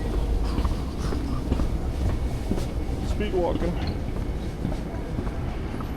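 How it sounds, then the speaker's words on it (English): Train rumbling at a station beside rail tracks, a steady broadband roar with faint clattering throughout, with people talking over it. "Oh, we have a train right here."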